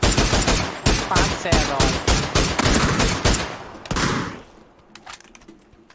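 Rapid automatic gunfire from the shooter game PUBG, loud close bursts of rattling shots that stop abruptly, followed by a few scattered single shots, with brief talk in the background.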